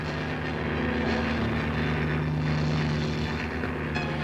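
Japanese carrier-based propeller planes in flight during the 1941 attack on Pearl Harbor, a steady, loud engine drone with a low hum that holds unbroken throughout.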